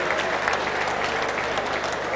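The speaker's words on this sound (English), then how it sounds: "Give up a big round of applause to Daniel Shearing from Valance in Tasmania." An audience claps for a competitor at an event, a dense, even round of applause from a sizeable crowd, loud and sustained for the whole moment.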